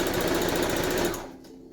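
A sewing machine basts fabric for a hat in one fast, loud, even run of stitching that stops abruptly after about a second, leaving a faint hum.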